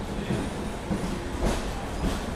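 Padmavati superfast express with LHB coaches pulling in at Tirupati station, a loud close rumble of wheels and carriages with rhythmic clanks over the rails, no talking.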